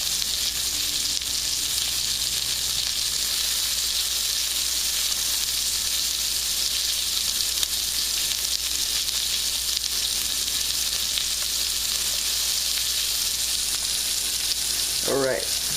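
Breakfast pork chops frying in a pan, a steady, loud, even sizzle that holds unbroken throughout, with a brief clatter near the end.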